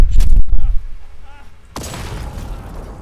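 Heavy bomb blasts and gunfire in the post-apocalyptic shooter Atomfall: loud booming low rumbles up front, a sudden cut, then a dense crackling burst, with a player's voice talking over the chaos.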